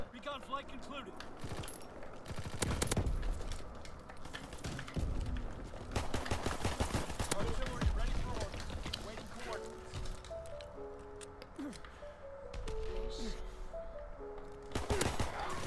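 PPSh-41 submachine gun fire in a WW2 first-person shooter, rapid bursts of automatic shots repeating across the stretch, loud and close, mixed with explosions and game sounds while a player talks over it.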